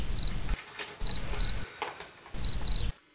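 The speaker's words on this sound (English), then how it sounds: "Cricket sound effects after a failed joke" Cricket chirping plays as a comedy sound effect after a joke falls flat: short, high, repeated chirps in three clusters over a low background hum, with brief silent gaps and no talk.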